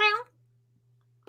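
A person imitates a cat with a short, high, wavering meow at the start, then near silence with a low hum, and a brief voice sound right at the end.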